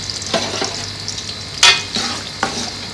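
Sliced onions frying in hot oil in a pan for a home-style gobi dish: a steady close sizzle broken by a few sharp bursts and scrapes as the pieces are stirred.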